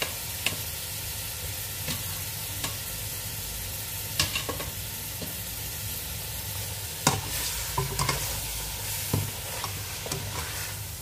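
Lamb meat fries in a pan with a soft, continuous sizzle, broken by scattered scraping and stirring clicks from a utensil against the pan. No one speaks.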